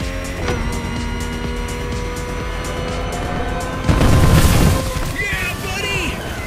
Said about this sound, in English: Those fireworks are for us.